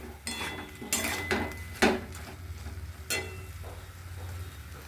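Spice mixture with a little water being stirred in a cooking pan, giving a few distinct scraping clanks of utensil against metal over a low steady background hum, with no talking.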